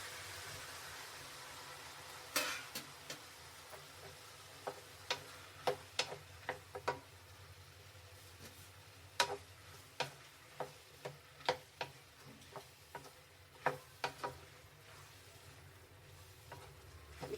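Tomatoes and browned onions fry in a pan for tomato gojju, a faint steady sizzle under scattered sharp pops and ticks that come irregularly every second or so.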